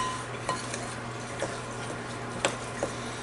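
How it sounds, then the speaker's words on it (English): A spoon stirs dry pancake ingredients for lemon oat pancakes in a bowl, giving soft scraping with a few light clinks against the side, quiet and close under a steady low hum. "spoon and stir all of our dry ingredients together, making sure everything gets nice and incorporated"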